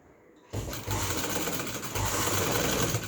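Sewing machine stitching along a neckline on fabric, a lace-trimmed neck design, starting after a brief quiet moment and then running steadily and close up for the rest, with no talk.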